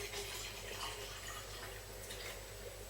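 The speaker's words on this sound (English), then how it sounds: "I'm going to fill both of the cups with water from the cold tap, from the same jug" Cold tap water poured from a jug into two cups, a steady close liquid trickle running continuously without speech.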